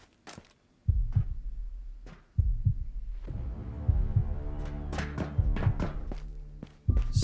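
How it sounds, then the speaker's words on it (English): Heartbeat effect from the Ghosts of Tabor video game: deep, regular thumping pulses sounding alone over a low ambient hum, steady and fairly loud throughout. "And my heart beat pounding the entire time."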